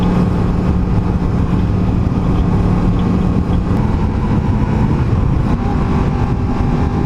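Yamaha FZ10 motorcycle being ridden at speed in second gear, a steady loud engine drone with wind rush throughout, no voices.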